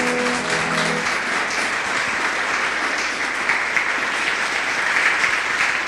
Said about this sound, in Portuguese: Palmas para o Senhor.